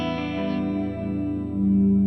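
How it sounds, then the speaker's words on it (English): Guitar through a TC Electronic Hall of Fame 2 octave effect with its output filter set low at 250 Hz, giving a steady, droning sustained tone with a dense low stack that swells slightly near the end, with no talking. "It's an EQ filter on the output of the octave effect. So if I set it low, 250, you only hear low frequencies."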